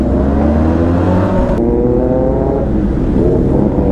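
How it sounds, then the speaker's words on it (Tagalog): A group of eleven big bikes of mixed makes, a TRK among them, ride together, their engines droning and revving loudly and steadily throughout, with a shift in pitch midway. "Bali 11 na big bikes kami ngayon."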